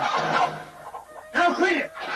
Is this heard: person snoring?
no